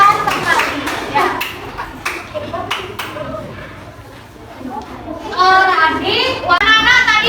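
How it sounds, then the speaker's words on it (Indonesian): A classroom of children claps for a student group: a burst of scattered, uneven hand claps up close at the start, then children's voices chattering and calling out loudly near the end. "Tepuk tangan untuk kelompok Apotema dari Sumatera."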